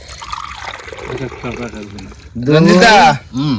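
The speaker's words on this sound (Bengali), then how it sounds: "এই কাপ মেপে মেপে জল দেবো" Water poured from a cup into a pot for evening tea, a bright splashing gush rising loudly near the end in two bursts, after a stretch of background talk.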